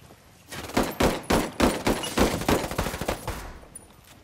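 Rapid bursts of gunfire crack out in Ghost Recon Wildlands, a string of loud, closely spaced shots fired in uneven volleys for a few seconds before trailing off.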